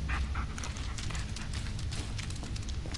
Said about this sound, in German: Der Hund.